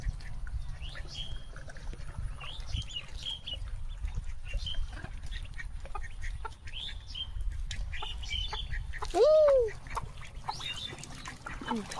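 Ducklings feed on rice, with a steady patter of pecking and soft peeping calls, while a louder quack-like call stands out near the end over faint background noise.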